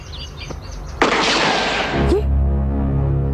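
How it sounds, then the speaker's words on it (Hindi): A single sharp gunshot cracks out suddenly and rings into a noisy burst that fades after about a second, with quieter background sounds around it, in a television drama scene. "ये किसने गोली चलाई?"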